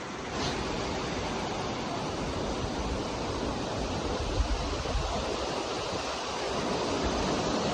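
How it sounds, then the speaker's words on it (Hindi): The fast-flowing Alaknanda river at Badrinath in the mountains, a steady loud rushing roar of turbulent water filling the whole scene without pause. "आप मेरे पीछे जब देखें तो अलकनंदा नदी बह रही है"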